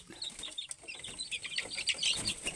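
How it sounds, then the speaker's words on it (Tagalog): Native-and-gamecock hybrid chickens cluck repeatedly in a busy, chattering cluster, fairly close, with some higher chirps mixed in and no talking. "Ito yung alagang manok natin dito"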